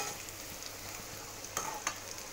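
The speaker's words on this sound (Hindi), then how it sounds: "सेंगदाना डालने के बाद इस तरह से थोड़े से बबल्स आते हैं इसमें।" Peanuts frying in hot oil in a pan while making sabudana khichdi, a steady close sizzle and bubbling with a couple of brief stirring scrapes, no voices.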